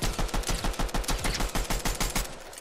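Rapid automatic gunfire in a Fortnite duo cash cup match: a steady, fast burst of roughly a dozen evenly spaced shots, loud and close, with no talk.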